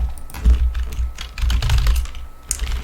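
Rapid typing on a computer keyboard while entering a command, a quick run of close, crisp key clicks with a brief pause and a final keystroke, no talking.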